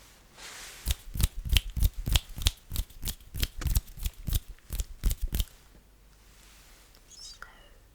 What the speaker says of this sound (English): no need to count the amount of snips. Just let me know which side they are